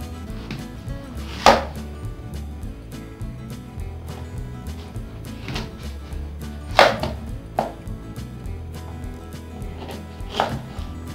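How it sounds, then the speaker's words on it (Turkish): A sharp knife trims the edges off a hard quince, giving three separate crisp cutting thuds spaced a few seconds apart against a low background hum, with no talking. "Ayvamız biliyorsunuz ki çok sert bir ayva. O yüzden de keskin bir bıçak yardımıyla bu işlemi yapın."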